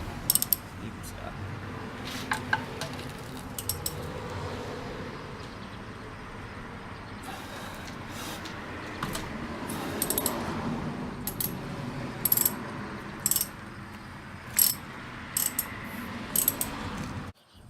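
A ratchet works on a 17 mm bolt on a KE100 motorcycle while the oil is drained, giving a steady mechanical clicking under the background noise, with sharper metallic clicks and clinks toward the end.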